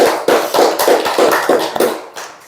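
A church congregation claps together in steady rhythmic unison at a Sunday service, loud and close, the hand claps falling in a regular beat for about two seconds before fading.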